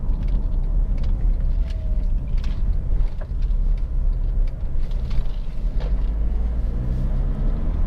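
A 2.2-litre i-DTEC diesel Honda CR-V EX station wagon is being driven, giving a steady low cabin drone of engine and road noise with faint ticks and rattles throughout.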